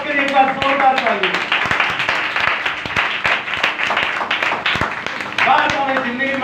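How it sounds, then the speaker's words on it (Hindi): A congregation at a Christian church gathering breaks into loud, sustained applause, dense clapping filling the room while a preacher's voice carries on over it. "जिंदा खुदा पाक के लिए एक बार जोरदार ताली"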